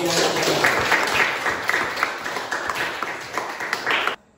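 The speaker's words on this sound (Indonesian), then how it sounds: "Tepuk tangan" A classroom of students applauds during a lesson, producing a brisk, dense burst of clapping with a few sharper individual claps, continuing steadily and then cutting off abruptly.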